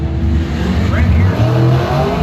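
A drag racing dragster at the track during Friday round racing, its engine roaring loud and steady throughout with a brief rising pitch sweep mid-clip, mixed with strong low rumble.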